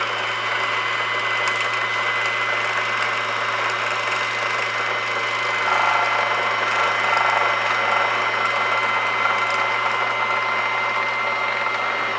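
An Usha Janome sewing machine winding its bobbin, a steady close mechanical whir with a faint rattling buzz that rises slightly in the middle, running continuously with no speech.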